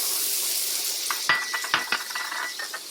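Butter, onions and pears sizzle steadily in a hot pan. A bright frying hiss fills the background, broken by a few sharp clinks and scrapes of a utensil against the pan.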